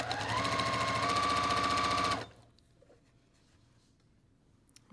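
A sewing machine fitted with a 1/4 inch foot stitches a quilt block in a fast, even, rattling run for about two seconds, then stops dead, leaving near silence.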